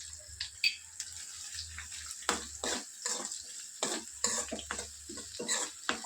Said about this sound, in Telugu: ఉల్లిపాయలు వేస్తున్నా. అలాగే పచ్చిమిర్చి వేస్తున్నాను.